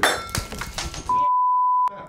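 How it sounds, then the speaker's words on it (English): A light bulb blowing, heard as a short sharp crack and clatter, followed by a steady electronic beep tone that cuts off abruptly. "as we're filming, one of the light bulbs blows"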